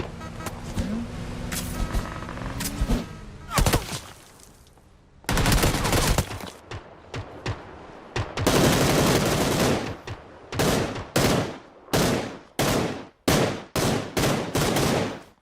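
Rapid gunfire bursts in PUBG Lite, loud and close, arriving in repeated short volleys and sustained fusillades after a stretch of vehicle-like engine noise, with no talking.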